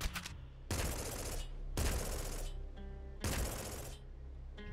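The Scythe Dispenser Gun fires in the video game Nuclear Throne, with four loud, crunchy bursts separated by short gaps, each followed by a fading tonal tail.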